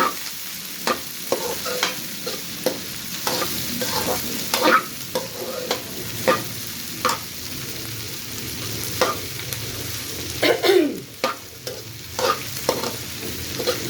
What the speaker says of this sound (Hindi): इसको तकरीबन हमने फ्राई करना है 5-6 मिनट तक।